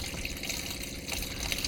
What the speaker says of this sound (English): when we close the valve, water is still running out of the valve